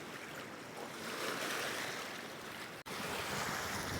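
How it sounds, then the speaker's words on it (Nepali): A river rushing steadily, a broad continuous wash of flowing water with wind buffeting the microphone, loud and close with no voices. "नदीको आवाज पनि सुन्नु नदीको नेचुरल भाइब"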